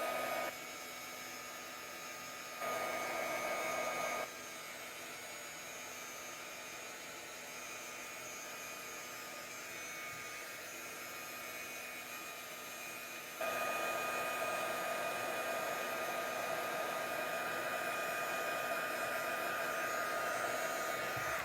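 A heat gun blows a steady, loud whirring roar while heating embossing powder on a craft card, running continuously with slight shifts in pitch and level.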